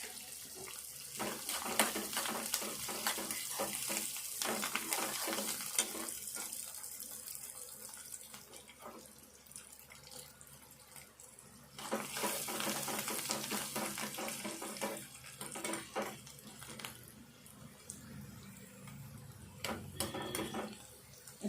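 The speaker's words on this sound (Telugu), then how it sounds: "కరివేపాకును కొత్తిమీర కూడా కొద్దిసేపు వేగాలి" Curry leaves and coriander frying in a tempering, a bright hissing sizzle that rises and fades in waves, close and moderately loud, with light clicks of stirring and no voices.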